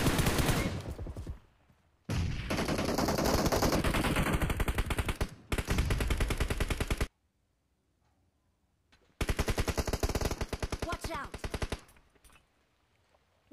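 Rapid automatic gunfire from the PUBG Mobile video game comes in long, loud sustained bursts separated by near-silent gaps, with dense rattling shots throughout.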